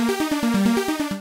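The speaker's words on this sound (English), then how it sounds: "we go super saw, and then now it's going to sound like this." Super saw synth arpeggio from Roland Zenology Pro for a trance patch, bright detuned notes stepping rapidly in an even pulsing pattern, loud and alone.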